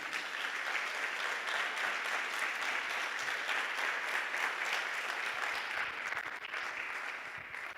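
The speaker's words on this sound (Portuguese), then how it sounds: "Você pode aplaudir a Jesus?" A church congregation claps together in sustained, dense applause during a Portuguese-language sermon, staying loud and even before tapering slightly at the end.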